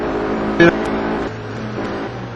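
Touring car engines racing in the rFactor sim at Snetterton, a steady loud engine drone with a brief sharp spike of revving near the start, cars running close together in a slipstream.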